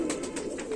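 Indian Rampuri pigeons cooing in a steady low murmur, with repeated soft pulses through a continuous close coo lasting under a second.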